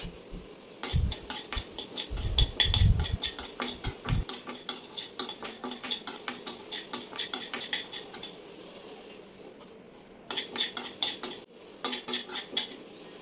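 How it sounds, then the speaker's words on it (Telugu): Barley roasting in a metal pan while a spoon stirs it, a fast run of close metallic scrapes and clinks with grains rattling, pausing briefly before resuming. "ఒక అరకప్పు బార్లీ వేసుకుని ద్వారగా వేయించుకుందామండి"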